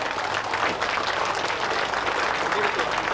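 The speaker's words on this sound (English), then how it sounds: "give him a big round of applause." A crowd gathered for a torch relay applauds the youngest torch bearer, with loud, dense clapping and crowd noise running steadily throughout.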